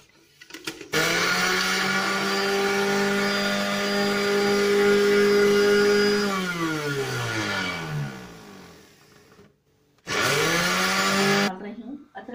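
Kitchen blender grinding ginger and garlic into paste for a Pakistani potato curry, a loud steady motor whine that slows and drops in pitch as it winds down, then a second short burst after a brief pause.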